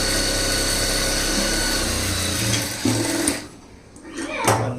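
A sewing machine stitches the lining of a stone-model blouse in a fast, steady mechanical whir that runs for several seconds, then stops abruptly before a brief final burst, with a voice speaking alongside.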